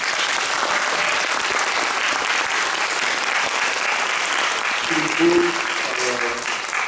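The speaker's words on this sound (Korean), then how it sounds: "오늘 함께 먼저 열연과 강렬한 무대를 만들어준 안젤리카 리델과 창작팀에게 먼저 큰 박수 한번 부탁드립니다." Dense, sustained theatre audience applause for Angélica Liddell and the creative team after a performance of Liebestod, steady throughout with a brief voice rising near the end.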